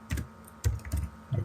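A handful of quick keystrokes tap on a computer keyboard, close and soft, in four short clusters with no one speaking.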